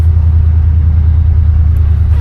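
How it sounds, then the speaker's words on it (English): A 1988 Chevrolet Monte Carlo SS engine idles a little high, giving a steady, loud, close low rumble with no breaks. "Definitely feels like it's idled a little bit high."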